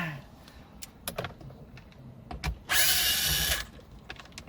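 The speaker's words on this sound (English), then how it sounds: "you're going to want to get your Phillips screwdriver and unscrew those before going on to the next step" Screws being removed with a Phillips screwdriver from the dashboard of a 2010-2019 Lexus GX460, heard as scattered close clicks and taps with a brief louder burst of rattling, and no talk.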